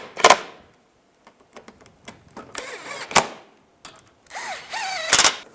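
Bolts on a 2010-2015 Toyota Prius headlight being tightened with short bursts of a power driver, several whirring runs separated by quiet clicks and handling noise, close and fairly loud.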